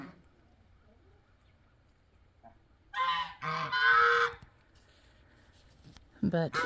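Loud, harsh poultry honks and squawks in a few bursts over a quiet background, close by, with brief pauses between calls.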